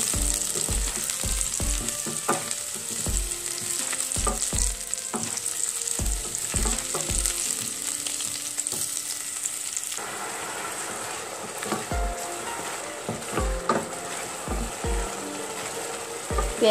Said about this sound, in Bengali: পেঁয়াজ রসুন ভাজা হওয়ার পর আমি টমেটো দিয়ে দিয়েছি, টমেটো সস।